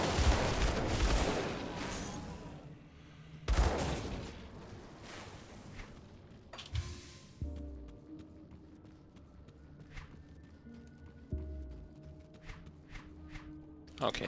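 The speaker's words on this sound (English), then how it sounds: "I am shooting into nothing." Dual pistols firing in the action RPG Grim Dawn, a run of sharp repeated gunshots with footsteps and game effects, loud bursts at first then scattered shots through the rest.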